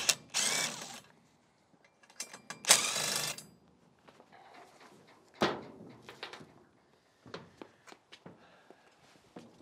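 Ratcheting and mechanical clicks from a winch being fitted onto a cheap truck bed crane, with bursts of metallic rattling, scattered clanks and handling noises coming and going at close range.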